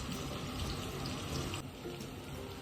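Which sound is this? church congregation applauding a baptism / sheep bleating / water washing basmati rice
water washing basmati rice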